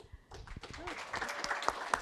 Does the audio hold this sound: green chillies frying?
no